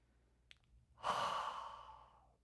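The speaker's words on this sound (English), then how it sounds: "Breathe in through the nose." A single deep inhalation during a guided breathing meditation at a Sunday service, a soft breathy rush that swells quickly and tapers off over about a second and a half, close and alone after a faint click.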